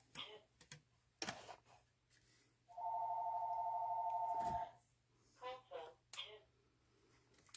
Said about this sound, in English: Of course, my son's calling me on the house phone.